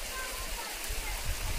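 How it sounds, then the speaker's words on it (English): Broadband rushing water from a waterfall on a hillside trail between villages, a steady close roar filling the clip, with brief voices and shuffling on top. "This waterfall. Very nice."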